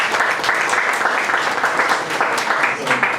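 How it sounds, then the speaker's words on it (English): A room full of people at a community breakfast gives a loud, steady round of applause, dense clapping with a few cheers rising through it, lasting the whole stretch. "So give yourselves a round of applause for that."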